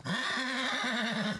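A single close, loud horse whinny rings out, one evacuated Ukrainian horse calling in a long wavering neigh that fades at the end.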